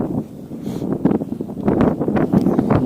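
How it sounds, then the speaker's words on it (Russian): Strong wind gusting across open ice at an ice-fishing spot for navaga on the frozen sea, a steady low roar with buffeting mic rumble that swells louder toward the end, with no talking. "Вот, ребята, ветрище вообще задувает."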